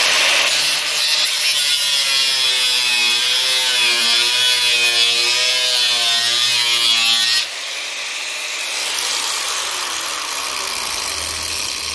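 A blade saws through scrap steel from its top edge, making a loud, steady rasping whine with a slightly wavering pitch for about seven seconds before easing into a quieter, rougher cutting sound.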